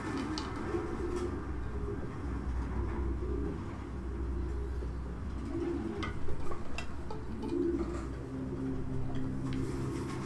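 Pigeons cooing in a video game, low repeated burbling coos over a constant low ambient hum, with a few faint clicks and ticks scattered throughout.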